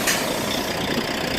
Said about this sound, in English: Hear the big bus engine.